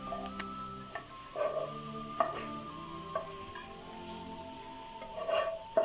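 Fried onions being stirred into kuzhippaniyaram batter in a bowl, soft wet scraping and mixing with a few utensil knocks against the vessel, steady and close, no talking.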